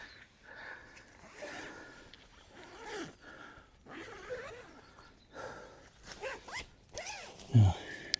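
A tent door zip is opened and closed in repeated short rasping pulls, close up, with a person's voice heard between some of the strokes.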